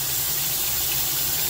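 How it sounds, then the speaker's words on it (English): Tepid water pouring steadily through a Phalaenopsis orchid pot, a constant close, loud gushing rush with no pauses. "And I just let the water run through"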